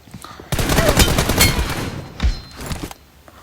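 Rapid automatic gunfire from the mobile shooter PUBG Mobile played on an iPad mini 6, a dense sustained burst of shots that stops, then a shorter burst follows before trailing off.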